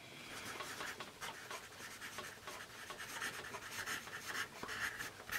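A Dixon Ticonderoga Envirostik pencil's attached eraser rubs back and forth on paper in quick, soft, close scratchy strokes, faint and continuous with no talking.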